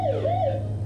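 A toy police car siren from a surprise egg app game gives a short, clear electronic wail that dips and rises once, loud and steady with no talk.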